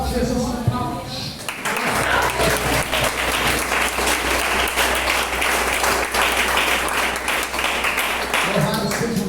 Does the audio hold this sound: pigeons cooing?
no